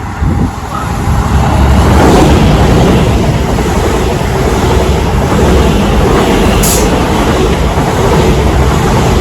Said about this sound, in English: The train now approaches platform 1.